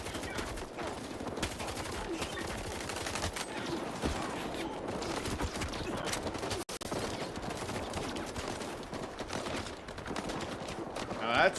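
Intense, chaotic gunfight in the video game S.T.A.L.K.E.R. 2, with dense, continuous automatic gunfire and overlapping shots that stay loud almost throughout, pausing only briefly near the middle.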